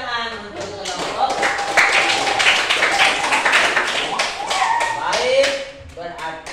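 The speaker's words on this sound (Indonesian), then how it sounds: "Tepuk tangan untuk kelompok." Children in a sixth-grade classroom clap for a group in a brisk burst of rapid, close applause, mixed with a teacher's voice and children's chatter.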